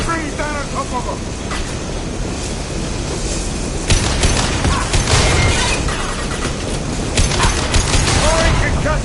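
Gunfire rattles in bursts with booming impacts and mechanical clatter as a fuel tank is shot in the Mass Effect 2 video game, the battle noise dense and loud throughout.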